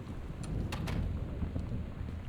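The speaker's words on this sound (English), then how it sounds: "And there's still a storm outside." Thunderstorm outside a house in the video game Gone Home, with steady rain and low rumbling thunder filling the background, brief crackling bursts near the start.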